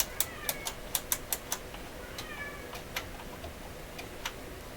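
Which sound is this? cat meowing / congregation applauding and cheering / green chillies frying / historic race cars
cat meowing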